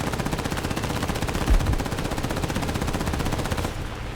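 Rapid continuous aircraft machine-gun bursts from an A5M4 fighter in War Thunder air realistic combat, a loud dense rattling stream of shots lasting several seconds before easing off.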